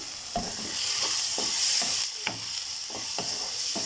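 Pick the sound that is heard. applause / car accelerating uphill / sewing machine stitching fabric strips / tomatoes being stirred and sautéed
tomatoes being stirred and sautéed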